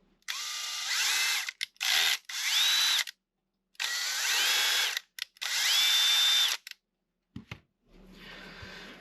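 Power drill driving screws into a part of a 1/14.5-scale Liebherr R960 SME model, in several loud close bursts with rising motor whine and short pauses between them, then quieter handling noise at the end.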